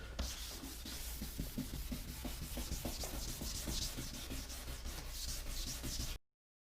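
Wet sanding of a plastic headlight lens with 800 grit sandpaper, a steady back-and-forth rasping in quick regular strokes, close and continuous until it cuts off near the end.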